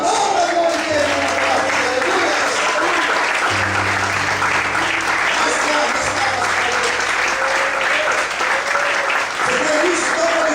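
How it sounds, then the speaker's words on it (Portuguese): Steady, loud applause from a church congregation during a sermon, continuous throughout while a voice speaks over the clapping. "glorifique e aplauda a glória de Deus"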